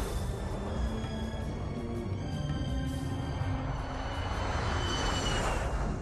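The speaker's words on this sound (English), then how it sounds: "A civilian cargo plane has just taken off from the city's airport." A civilian cargo plane takes off from Baghdad airport, its engines giving a loud, sustained roar with a layered whine that holds steady and fills the whole stretch, with no voices.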